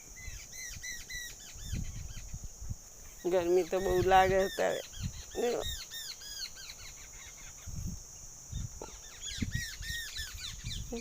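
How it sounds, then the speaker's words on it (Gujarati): Sparrows chirp busily and repeatedly throughout, with a louder squawking burst in the middle and a person speaking briefly. "ચકલા કલોલ કરે."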